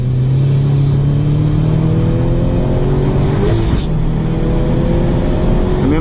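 A turbocharged GT86 show car on air suspension pulls hard on throttle, its engine drone climbing steadily with a brief dip around a gear change before rising again, loud and close with no talk.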